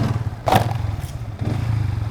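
Manual-clutch motorcycle launched at about 6000 rpm with the clutch dropped suddenly for a wheelie, heard as a loud thump and clatter over steady engine rumble, followed by a second knock.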